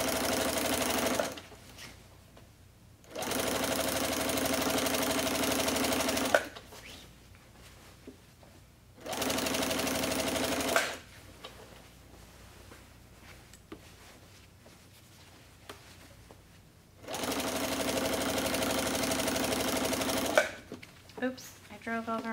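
A sewing machine stitches straight lines on a quilt in four separate runs of steady, rapid whirring, with quiet pauses and faint handling noises between them.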